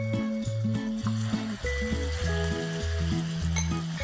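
Prawns frying in reheated oil for a prawn pickle, a steady moderate sizzle heard close, with faint clinks and a musical tune playing over it.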